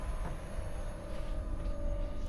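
AVE high-speed train rolling out of Perpignan station, heard from inside as a steady low rumble with a faint whine, continuous throughout.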